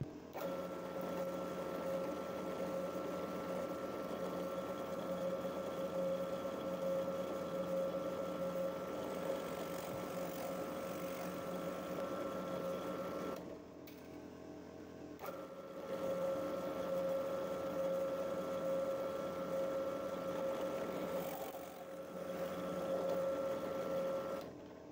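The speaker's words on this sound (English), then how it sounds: "Then I'll just drill them out and then the bolt will fit right down to those." A drill bores out small wooden pieces for a lathe tool rest, producing a steady, moderately quiet motor whine with a clear pitch that runs continuously, breaks off briefly partway through, then resumes, with no talk.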